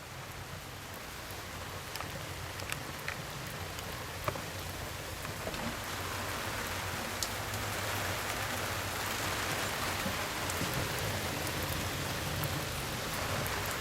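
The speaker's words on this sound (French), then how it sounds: "il pleut à verse" Heavy rain pours steadily on a boat waiting at a canal lock near Frontignan, a dense continuous hiss with scattered sharper drop impacts throughout, no voices.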